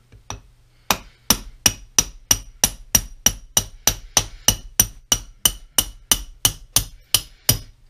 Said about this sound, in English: my hammer, homemade hammer or